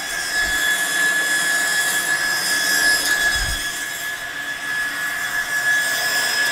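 A used Hyd-Mech S20 Series 2 horizontal swivel-head bandsaw cuts a clamped workpiece, giving a steady, loud grinding hum with a sustained high-pitched blade whine and no speech.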